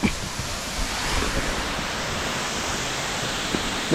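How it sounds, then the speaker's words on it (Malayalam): Roar of the Njandirukki waterfall in Idukki, a steady, dense rushing wash of falling water that holds at an even level throughout with no voices. "വെള്ളച്ചാട്ടത്തിൻ്റെ എരമ്പൽ മാത്രമായിരിക്കും ചിലപ്പോൾ കേൾക്കാൻ പറ്റുന്നത്"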